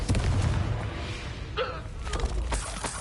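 A Confringo fire spell blasts in Hogwarts Legacy, a short whooshing burst with a thudding impact, near and loud over a low game rumble.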